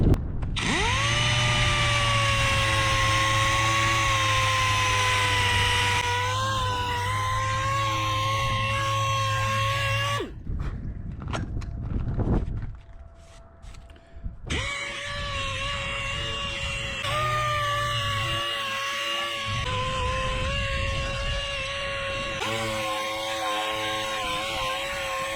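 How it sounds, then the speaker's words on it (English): A power sander with coarse 40-grit paper shapes custom fiberglass side panels for a dirt bike. A loud, steady high whine runs continuously, drops out briefly midway with some clatter, then resumes. "We'll start with some pretty aggressive 40 grit paper and get the things to shape."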